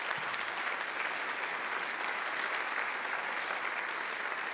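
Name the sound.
audience applauding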